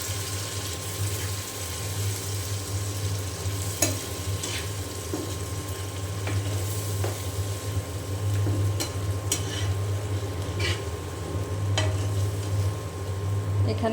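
Eggplant ghonto being stirred and fried in a pan after onion and garlic have been sautéed, giving a steady low sizzle with intermittent scraping and clinking of the spoon against the pan, close and continuous with no talk.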